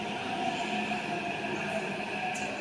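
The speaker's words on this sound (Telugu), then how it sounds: "వచ్చేసింది మా ట్రైన్, మెట్రో ట్రైన్" A metro train arriving at a station, a steady close rumble with a sustained tonal hum and faint high squeals, no talking.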